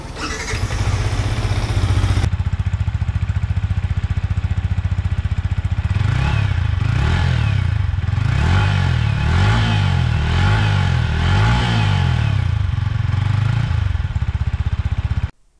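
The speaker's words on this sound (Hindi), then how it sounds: "और अब मैं आपको इसका एग्जॉस्ट नोट सुनाता हूँ दोस्तों" A 2021 Yamaha MT-15 motorcycle idles, then its exhaust note rises and falls through a series of repeated throttle revs, loud and close, before the engine cuts off.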